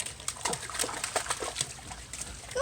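Small puppy paddling and splashing in water while learning to swim, scattered quick splashes close by, fairly faint.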